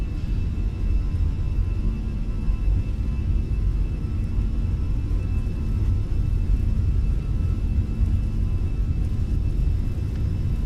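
A Fenix A320 airliner makes its takeoff roll in Microsoft Flight Simulator. Its engines give a steady, loud, continuous rumble and whir with a faint high tone running over it, and no voices are heard.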